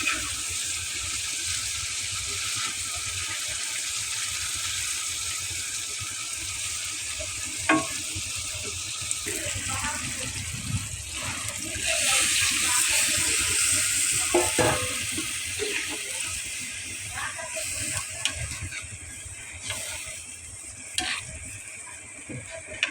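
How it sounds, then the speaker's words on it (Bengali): Fish being gently stirred with spices in a frying pan, a continuous soft sizzle with occasional scrapes and knocks of the utensil, a louder bubbling stretch in the middle. "মাছগুলো দিয়ে দিলাম। মাছ দিয়ে আস্তে করে নেড়ে"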